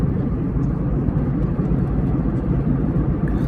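A flight cruising between two cloud layers gives a loud, steady cabin roar of jet engine rumble and whir that runs unbroken throughout.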